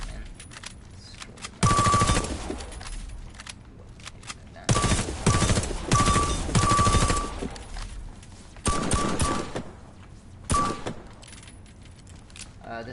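Automatic gunfire in the shooter game Warface comes in several loud, close rattling bursts, each lasting a second or two, separated by quieter gaps of low background noise.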